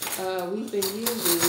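Silverware clinking together in a box, with several bright metallic rattles over a person talking nearby.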